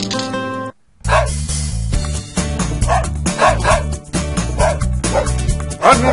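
Dog barking in the Dog Island video game, a series of repeated bow-wow barks and yips over constant game music.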